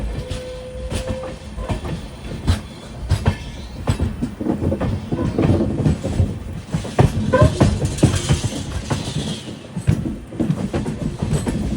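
An Amrit Bharat Express train running on rails near the Netravati River, heard from a sleeper class coach in the middle of the train, with loud continuous rumble, rhythmic clickety-clack of wheels and occasional squeals.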